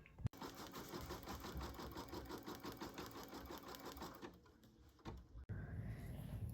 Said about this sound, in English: It's gonna do a placement stitch for the inner ear